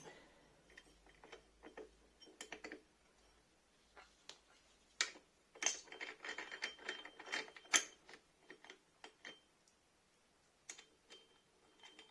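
Ratchet wrench turning on a scooter variator during a belt and torque driver teardown, bursts of close, rapid metallic clicking ratchet strokes separated by pauses, fairly quiet overall.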